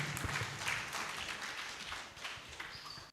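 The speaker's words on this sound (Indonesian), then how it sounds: "Boleh kita berikan tepuk tangan untuk beliau." Audience applause greets a speaker at a civic forum on community and police cooperation at Gedung Joang, a soft, steady wash of many hands clapping heard from a distance for about three seconds.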